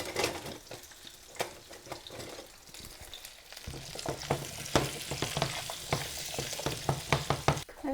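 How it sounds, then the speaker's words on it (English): Close, steady sizzling of meatballs frying in a pan, with occasional clinks and scrapes of stirring. "And you just have that in frying with your meatballs."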